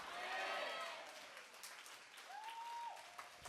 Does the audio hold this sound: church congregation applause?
yes